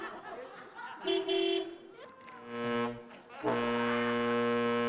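Several car horn blasts sound in succession, the last one long and sustained, with brief voices and a chuckle between them.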